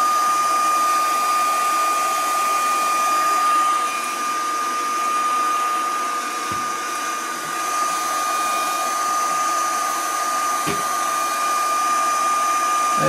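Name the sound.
heat gun heating a plate on an Audi A3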